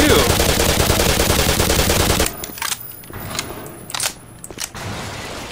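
Gunfire in the video game Black Mesa: a dense burst of rapid automatic fire for about two seconds, then scattered single shots and sharp impacts spaced unevenly, all loud and close.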